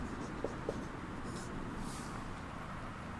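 Writing on a board in a classroom makes a faint scratching with a couple of light taps, low and quiet beneath a steady background hiss.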